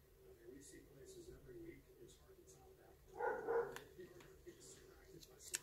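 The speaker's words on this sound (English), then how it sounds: "I know you guys can hear my dogs." A pet dog barks a few times in the background at home, faint and intermittent beneath someone talking.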